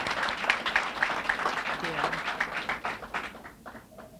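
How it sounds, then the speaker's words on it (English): A room of guests at a bursary awards ceremony gives a clap to a returning scholarship recipient; scattered, moderate clapping from many hands fades out toward the end, with a faint voice underneath. "You can give him a clap now that he's back."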